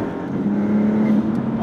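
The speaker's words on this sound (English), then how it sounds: "the turbo noises completely, oh my God, completely overwhelm the sound of the actual exhaust" Maserati MC20 pulling hard under acceleration, a steady droning engine note with turbo whoosh on top, close and loud throughout, with the exhaust tone flat and largely buried beneath it.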